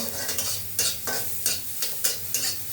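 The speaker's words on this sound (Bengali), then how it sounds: "বেগুনটা আমার প্রায় ভাজা ভাজা হয়ে গেছে" Eggplant sizzles steadily in oil in a pan while a utensil stirs and scrapes in regular strokes, close by.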